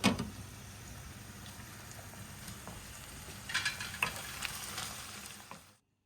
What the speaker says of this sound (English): The onion is now cooked and fried.